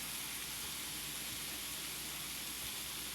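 Meat and onions sear in a hot pot with dry garlic powder, a steady, even hiss and sizzle close by and fairly quiet, with no talking.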